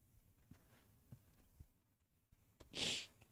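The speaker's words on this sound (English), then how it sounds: "I'm tired of sneezing" A single loud sneeze bursts out near the end, close and sharp, after a few faint breaths and small noises.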